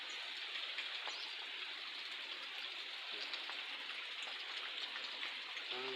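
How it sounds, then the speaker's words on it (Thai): Steady rain falls outside a house in Thailand, a soft even hiss with faint drips, continuous and fairly quiet throughout. "ฝนตก"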